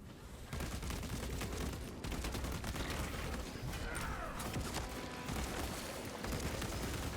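Bolt carbine firing in Warhammer 40K Space Marine 2 against Tyranids: dense, continuous rapid gunfire and booming impacts, loud and close, almost unbroken across the whole stretch.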